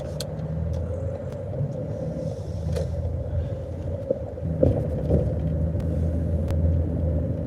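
Car in a driveway giving a steady low engine rumble and hum throughout, fairly loud and continuous with a few faint clicks and knocks on top, no talking.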